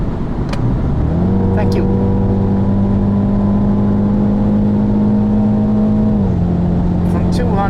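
A BMW X2 M35i engine pulls hard at high speed on the road, a loud, steady droning whine that climbs early, holds, then drops briefly near the end as if shifting, with a short spoken phrase.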